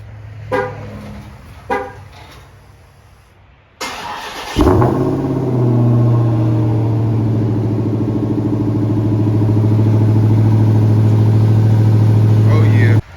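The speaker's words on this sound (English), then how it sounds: "hit this cold start for y'all so y'all can hear that" A Dodge Hellcat V8 cold-starts in 9-degree freezing weather: two sharp clicks and a pause, then the starter catches into a loud bark that settles to a steady, high, close idle.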